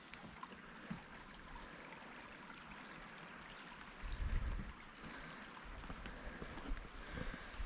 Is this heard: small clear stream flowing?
yes